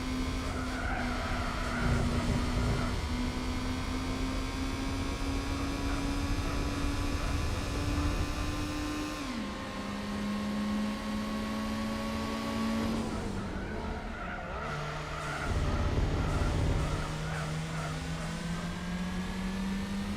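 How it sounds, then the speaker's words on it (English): A turbocharged car in Gran Turismo 4 drones at steady high revs, its engine note climbing and dropping with gear changes while turbo whistle and tire squeal ride on top, loud and continuous without talk. "I'm loving the little sound of the turbos kicking in"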